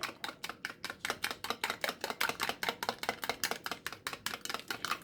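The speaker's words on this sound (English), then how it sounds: "we'll give that a stir" Fork rapidly stirring and whisking scrambled eggs in a plastic Tupperware breakfast maker, a fast steady run of about twenty-five light clicking strokes, close and fairly quiet, with no voices.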